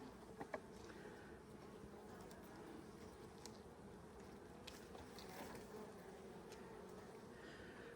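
Honey bees drone steadily and continuously at an open hive during a summer inspection, a dense, even buzz of many insects close by with a few faint clicks and no talk.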